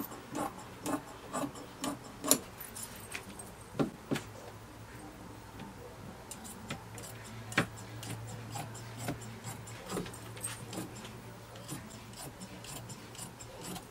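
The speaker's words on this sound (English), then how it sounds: "So now I'm going to cut out the rest of the pant." Scissors snip through fabric while cutting out pant pattern pieces, a string of quiet crisp clicks and soft rustles at an irregular pace, close but faint, with no speech.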